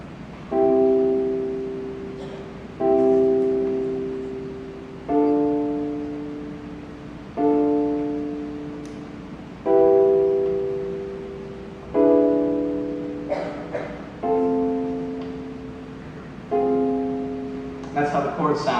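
Synthesized chord track from a home-made song: a sequence of sustained keyboard-like chords, each struck and left to fade, changing roughly every two seconds in a steady, unhurried progression, played alone with no voices.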